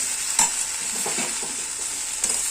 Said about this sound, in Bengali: এবার আমি এটা ভালো করে নাড়িয়ে নেব